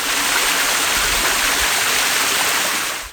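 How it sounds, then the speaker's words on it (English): Small winter waterfalls on a forest stream in Dallington Forest, a continuous broad rushing and splashing of flowing water, steady and close throughout with no voices. "None of these waterfalls are dramatic on their own, but together they suit the quiet, subdued light of winter."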